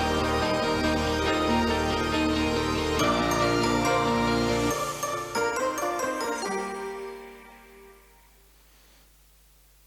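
A short bright Mastercard sonic logo of chimes and tones playing as a melodic phrase, then sustaining and fading out over a low hum.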